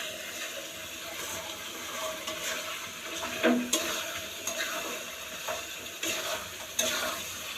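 Chicken frying in a pan on a home kitchen stove, with a steady sizzle throughout, occasional stirring clinks and light splashing of water nearby.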